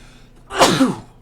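A single close, loud human sneeze, a short sharp burst with a rising and falling vocal tail, heard alone.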